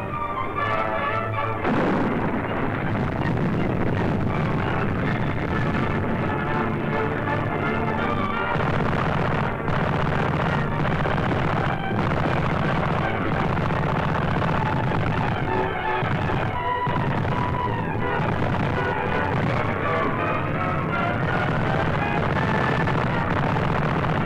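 Artillery barrage pounding enemy positions in a Canadian Army wartime newsreel, a continuous loud wall of booming blasts and rumble with no gaps, heavy and dense throughout.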